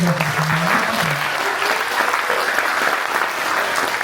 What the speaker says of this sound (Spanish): a quien le pido otro aplauso